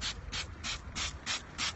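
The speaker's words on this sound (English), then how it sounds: "Bit of Wonder Wheels going on the old wheels here. Spray it on." Trigger spray bottle squirting Wonder Wheels cleaner onto car wheels, six quick evenly spaced hissing bursts in a steady rhythm, close and clear with nothing else over it.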